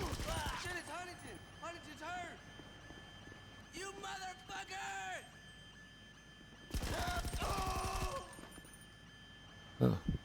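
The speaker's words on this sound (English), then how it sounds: "someone's shooting at me, and I've not noticed" Gunfire in the video game GTA Online: a dense burst of rapid shots about two-thirds of the way in, with a softer burst earlier, while someone talks and reacts over game sounds.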